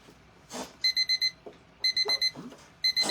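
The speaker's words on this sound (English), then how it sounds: "There's my timer." A timer alarm beeps in quick bursts of four, the pattern repeating three times, close and clear in a quiet room during home screw-driving work.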